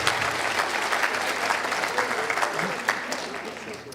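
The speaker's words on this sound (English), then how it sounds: "So let's give them all a round of applause." Audience applause in a community church service hall, a steady dense wash of clapping lasting throughout, fairly loud and continuous with a few sharper claps standing out.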